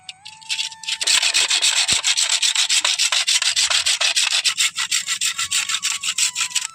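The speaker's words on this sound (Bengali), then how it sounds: "আমার তিনটে যে গ্রেটার আছে এইগুলোকে আমি এইভাবে ঘষে ধারালো করে নেব" Metal graters are scraped hard and rhythmically against a clay lamp to sharpen them. The gritty rasping strokes come close and loud in a fast, even series, with a faint tone in the background.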